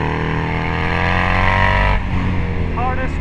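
A Harley-Davidson Screamin' Eagle factory Road Glide race bagger roars loudly around a race track, its engine note rising steadily before a sharp gear shift drops it, then climbing again as the bike pulls away.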